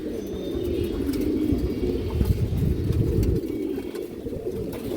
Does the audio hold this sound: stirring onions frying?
no